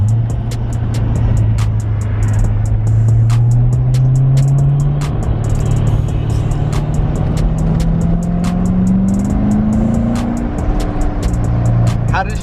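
A Chevrolet Corvette C7 engine drones loudly nearby, its pitch climbing gradually as it revs, with people talking over the constant roar.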